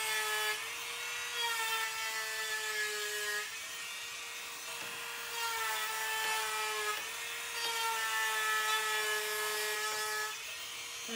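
A Worx MakerX rotary tool with a small tip engraving lines into a wooden tic-tac-toe board, a steady high-pitched motor whine that dips in pitch under load in repeated strokes, close up.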